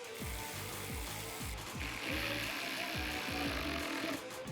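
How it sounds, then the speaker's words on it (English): 8mm driver ratcheting as it tightens intake coupler clamps on a 2018-2020 Ford F-150 2.7L EcoBoost cold air intake install, a rapid, rhythmic series of close mechanical clicks in short bursts. "we're gonna go ahead and secure these couplers with the clamps included in the kit"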